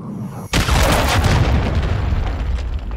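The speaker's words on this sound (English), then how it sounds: "Friendly cruise missile deployed." A cruise missile strikes in Call of Duty Modern Warfare II, landing as one sudden, heavy explosion that rumbles on with crackling debris and a sustained roar until the end, with no speech.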